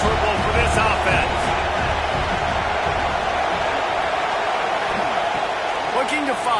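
A football stadium crowd roars in a steady, dense wash of noise while a commentator talks over it on a game broadcast, and the crowd stays loud and unbroken throughout.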